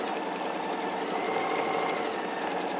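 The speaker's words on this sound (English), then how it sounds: "So now we're just stitching down that seam" A sewing machine stitches down a seam in a steady, unbroken mechanical whir that stays close and even from start to finish, with no voices.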